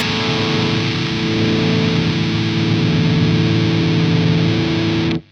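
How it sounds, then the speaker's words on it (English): Heavily distorted, scooped electric guitar roars in a thick, continuous wall of sound, then cuts off abruptly at the end. "This is very extreme. fully distorted, fully scooped"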